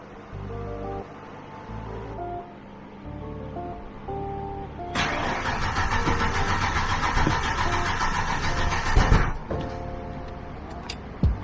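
A 30-year-old Ford Explorer, long unserviced and given a Seafoam treatment, cranks and starts, then settles into a loud, steady idle with a brief clunk near the end, heard up close.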